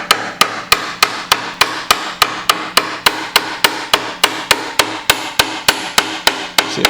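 Hammer striking metal while taking apart the tailstock of a Monarch 10 EE lathe, a steady run of about twenty sharp, loud, ringing blows at a brisk, even pace, close up and with no talking.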